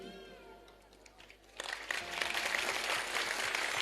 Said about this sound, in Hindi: किसने शुरू में ताली बजाई?